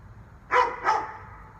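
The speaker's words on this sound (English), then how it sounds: "Now my dog's barking." A pet dog gives two quick barks, moderately close, over a low steady background hum with no talking.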